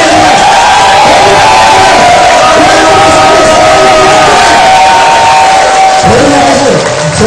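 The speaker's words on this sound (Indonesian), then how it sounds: "tepuk tangan lagi" A large seminar audience applauds and cheers loudly and steadily, a dense crowd roar with shouts and whoops layered throughout, dipping slightly near the end.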